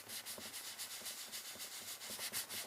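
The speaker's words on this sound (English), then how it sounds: "And just burnish it in and feather it out." Ink is burnished onto paper in a Stampin' Up! stamping craft, giving soft, steady rubbing strokes in a quick repeated rhythm, close and faint, with no talk.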